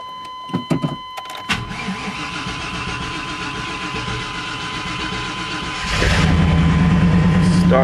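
A 1995 Chevy Tahoe, after its starter motor was replaced, gives a few sharp knocks, then cranks steadily for several seconds with a slight hesitation before the engine catches and settles into a louder, steady idle close by.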